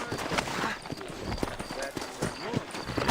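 Horse hooves clip-clop in a dusty frontier town in the video game Red Dead Redemption, a quick uneven trotting rhythm mixed with game dialogue and talk.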